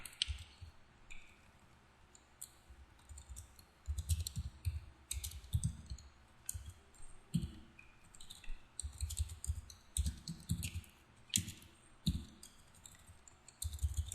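Typing on a computer keyboard, close and quiet, in uneven bursts of soft clicks separated by short pauses, with no voices.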